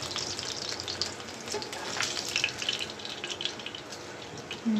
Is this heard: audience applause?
no